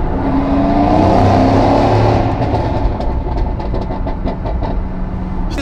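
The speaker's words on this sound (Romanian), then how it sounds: "când ai un 4000 V8 AMG și o evacuare de la Remus cu catless downpipes" A Mercedes-AMG C63s with a 4.0 V8 and Remus exhaust with catless downpipes drives by, loud and close: a sustained roaring engine note that shifts into a crackling, popping burble of rapid exhaust bursts.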